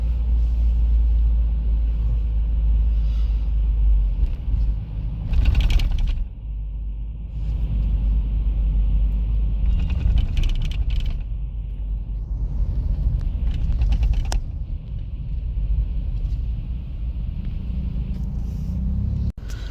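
Mahindra Thar Roxx petrol SUV cruising through city traffic at night, a steady low engine and road rumble heard from inside the cabin, with brief swells from passing vehicles.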